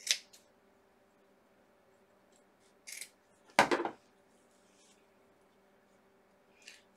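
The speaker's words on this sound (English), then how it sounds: "And then you want to cut. You want to cut these loops here." Scissors snip through yarn loops to make a tassel, giving a few sharp, isolated cuts spaced seconds apart in a quiet room, with one louder, longer crunching cut in the middle.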